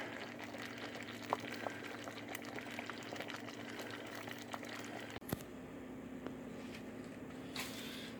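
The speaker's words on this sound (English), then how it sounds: "it is at a total full rolling boil that will stay that way when you're stirring it" Thick mulberry jam at a full rolling boil bubbles and pops steadily in the pot, a close, dense simmering wash with a brief clunk partway through and no talking.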